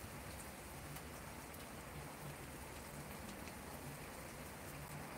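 Steady rain falls in the Netherlands, an even, continuous patter on surfaces with no voices.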